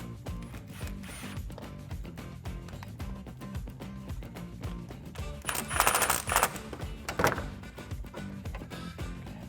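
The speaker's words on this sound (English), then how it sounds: "grab your socket and tighten on that clamp" A socket ratchet clicks in quick, close bursts while tightening a clamp on a Challenger cold air intake, with a few louder metallic rattles partway through and no talking.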